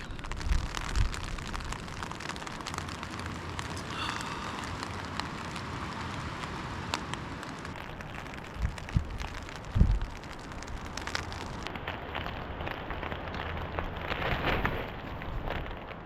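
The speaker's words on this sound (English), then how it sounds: "I will listen sound of the rain" Rain falls steadily in a quiet, close hiss of drops, likely on a tent or shelter during a camping night, with a few louder taps and a low rumble but no voices.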